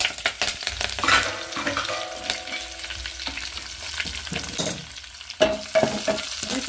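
Dried red chillies, mustard seeds, cumin and garlic crackle and sizzle in hot oil as a tempering on a stove for chutney, with steady frying hiss, sharp popping spatters and scraping stirs, close and fairly loud with no talk.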